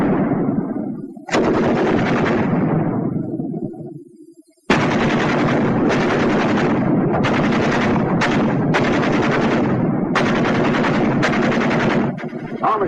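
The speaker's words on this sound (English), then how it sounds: "Ever hear a battle between 2 machine guns?" Two WWII-era machine guns trade long sustained bursts, very loud and close, one firing and pausing as the other answers, the bursts stopping and starting in a back-and-forth rhythm.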